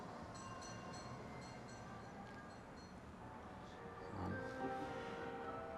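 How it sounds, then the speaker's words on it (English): A tram car rolls along a street in a film scene, a steady rumbling rail noise throughout that swells louder near the end, with faint horn-like tones. "You see the tram car."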